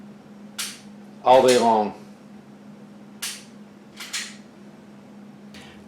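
A Glock 19 Gen 5 pistol fitted with an open sight fires four sharp, separate shots at uneven intervals, heard from a short distance. A steady low hum runs underneath, and a voice speaks briefly between the first and second shots.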